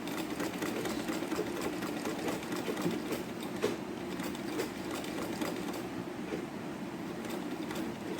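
A sewing machine stitching square pleats on a sleeve runs steadily throughout, a continuous close rattling hum with fast even needle clatter and no pauses or speech.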